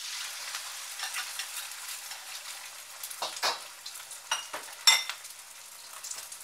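Onion fries for mushroom egg foo yung, a steady close hiss and sizzle in the pan, with a few stirring scrapes and a clink of a utensil.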